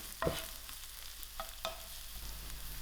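Onions and chilies frying in a pan, a soft steady sizzle broken by a few sharp scrapes and clinks of stirring near the start and middle.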